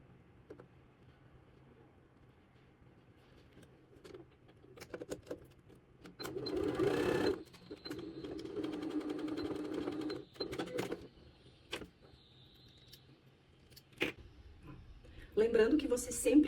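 Sewing machine stitching the back seam of tailored trousers runs in a sustained whirring burst of a few seconds, with shorter clicks and runs around it, while someone speaks at intervals.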